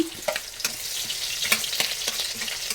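Onions sizzling and crackling steadily in a hot pan, with a few light clicks and scrapes from stirring, no voices.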